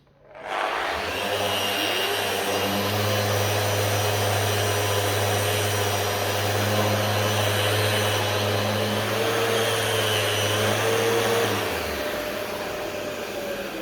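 An electric sander works across a wooden table surface, giving a steady, loud motor whine with a low hum. It runs for about eleven seconds without pause and then winds down, close by and with no talk.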